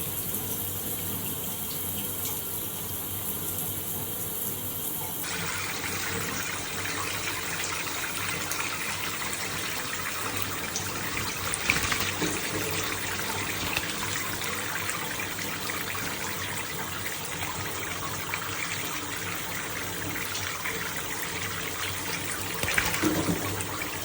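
Steady running shower water, a continuous hiss of the stream that grows fuller after a few seconds, in a bathroom with a Quaker parrot and sun conure bathing nearby; no speech.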